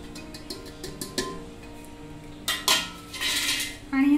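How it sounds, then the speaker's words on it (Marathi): Spices being mixed into flour in a metal bowl for Marathi thalipeeth, heard as a run of quick, close clinks and scrapes of a spoon against the bowl, with a few louder clatters toward the end and no talk. "आणि हे सगळे असे मिक्स करून घ्यायचे पीठमध्ये व्यवस्थित।"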